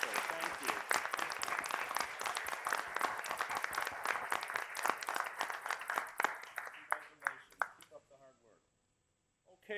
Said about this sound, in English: So a big round of applause for the Gower Scholastic Bowl.